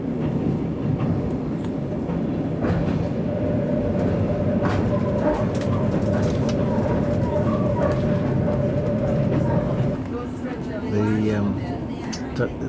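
Steady low rumble of a passenger train rolling along the rails, heard from inside the carriage, constant and close, with a voice talking over it and a brief change near the end.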